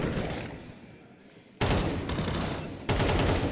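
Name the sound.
gunfire in the Counter-Strike video game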